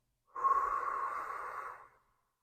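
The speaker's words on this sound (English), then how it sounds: "and exhale." Single steady exhale during Sheetali pranayama, a soft, close breath lasting under two seconds that starts abruptly and tapers off into silence.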